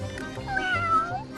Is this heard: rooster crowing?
no